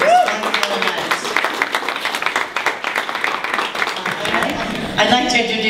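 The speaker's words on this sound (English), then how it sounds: "everybody give them a big round of applause for this wonderful event" Audience applause for the class of 2013 at a sponsorship event, a steady wash of many hands clapping at moderate loudness, fading toward the end as voices begin.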